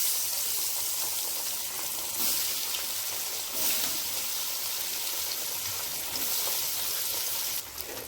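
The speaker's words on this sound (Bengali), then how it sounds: "এখন আমি পনির, আলু, কাবলি সব ভেজে নেব ভালো করে।" Paneer, potatoes and chickpeas frying in a pan, giving a steady hissing sizzle that stays even and fairly loud throughout, with no voices over it.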